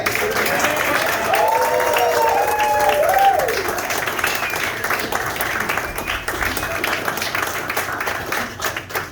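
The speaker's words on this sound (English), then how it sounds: "Give them another round of applause." Audience applause fills the room at the close of a Latin jazz trio festival masterclass, steady dense clapping that swells then gradually thins, with some faint voices and tonal sounds in the first few seconds.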